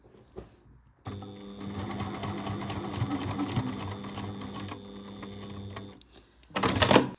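A sewing machine stitches a short seam on a knitted sweater, a steady mechanical whirring hum running for several seconds after a faint start, then stopping before a brief bright rustle.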